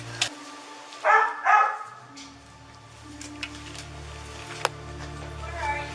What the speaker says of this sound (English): one of the family dogs began barking, relentlessly, with no clear trigger